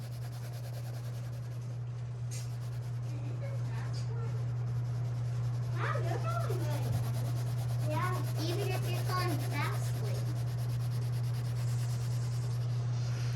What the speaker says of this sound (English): So I'm going to take a blue crayon, and you're going to color really nice.